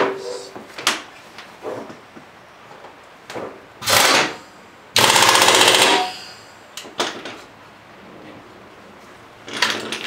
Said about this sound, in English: Take our impact gun.